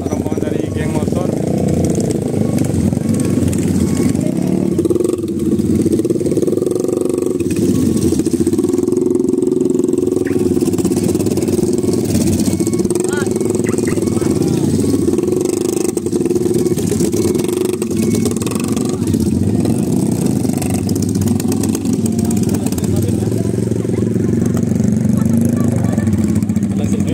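Large convoy of motorcycle gang members riding past on a road, a dense, continuous roar of many engines revving and droning up close for the whole stretch.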